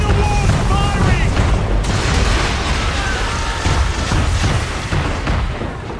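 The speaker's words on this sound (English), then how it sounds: "Man of War's firing!" Warship cannon fire in Assassin's Creed III: heavy booming blasts layered over a continuous loud battle roar, with shouting voices mixed in.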